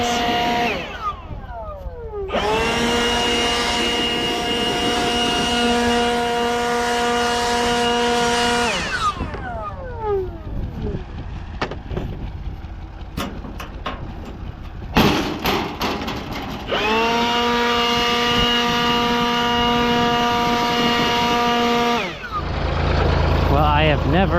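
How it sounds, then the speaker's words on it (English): A tractor rakes second-cut hay into triple windrows, its engine droning loudly in two long sustained runs, with pitch sweeping up at the start and down at the end of each and a rattling, quieter gap between them. "I'm raking windrows as triples on second cut"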